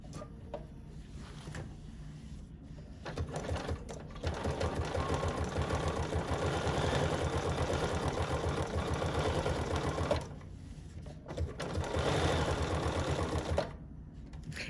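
Sewing machine running a zigzag stitch, with two long bursts of rapid, even needle chatter separated by short quiet pauses, close and clear.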